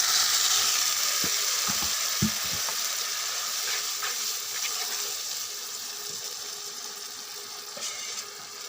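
Turmeric and spices sizzle and hiss steadily in a hot pan as a little water is poured in, a loud, close frying crackle that slowly eases, with a few faint clinks.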